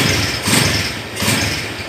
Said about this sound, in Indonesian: khas suara dari Tiger 2008 nih. Masih tir-tir kayak gitu nih.